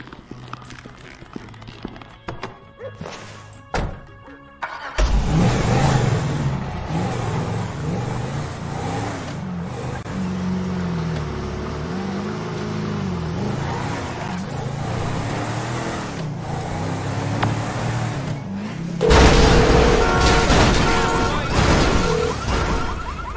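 Car engine droning steadily while driving in the video game GTA 5, loud and continuous for most of the stretch, with a sharper surge of engine noise near the end and scattered clatter and impacts mixed in.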